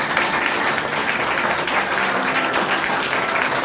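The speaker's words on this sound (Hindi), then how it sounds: "इनके लिए एक बार जोरदार ताली।" A crowd at a children's values school gathering claps loudly to welcome guests, a dense, sustained burst of applause with no break and no speech over it.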